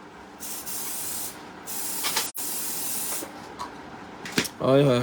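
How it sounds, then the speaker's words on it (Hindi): Room spray aerosol released in several sharp hissing bursts of varying length, loud and close, with brief pauses between them; a voice starts talking right at the end. "स्प्रे आ गया जी मेरे पास, रूम स्प्रे, ये लें जी।"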